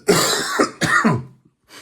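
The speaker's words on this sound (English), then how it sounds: "Excuse me while I cough." A few loud, close coughs in quick succession, rough and throaty, then a brief silence.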